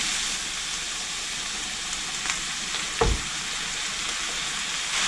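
Minced meat frying in hot oil in a pan, with onion just added, gives a steady, even sizzle throughout, broken by one brief louder clatter midway.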